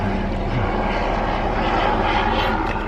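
Steady engine drone of a helicopter passing overhead, loud and continuous throughout with no break or talk.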